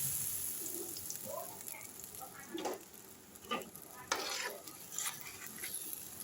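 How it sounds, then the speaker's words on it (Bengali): Yogurt, mustard and poppy seed paste poured into a hot pan of fried nigella and whole cumin seeds for a rohu fish curry sizzles steadily, with intermittent scraping stirs close by and no voices. "কালো জিরে আর গোটা জিরেটা ভালো করে একটু ভেজে নিয়ে আমি দই, সর্ষে, পোস্তর পেস্টটা এর মধ্যে ঢেলে দিলাম।"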